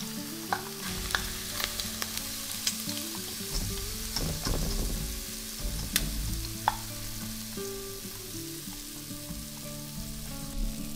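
Oil sizzles steadily in a pan as shrimp cakes fry over high heat, with scattered crackles and occasional scraping stirs, close and clear with no talking.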